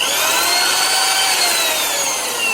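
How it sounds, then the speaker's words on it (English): A very small drill bit bores a hole in a part for a homemade Rife machine, giving a continuous, close, high-pitched whir that holds steady throughout without any talking. "I'm just going to go ahead and drill a hole here."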